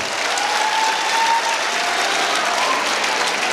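An audience at a public address by a government minister breaks into applause, a dense, steady wash of many hands clapping at once that holds evenly for several seconds without any speech.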